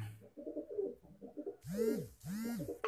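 A breeder pigeon on a rooftop coos nearby, with soft low murmurs followed by two louder, swelling coos close together.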